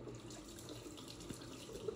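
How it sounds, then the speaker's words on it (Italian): A tap runs steadily into a sink for a cold-water rinse, a soft continuous splashing hiss that stays quiet and even throughout with no voices. "una bella sciacquata d'acqua fredda di montagna"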